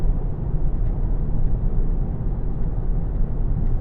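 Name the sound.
car tyre road noise while driving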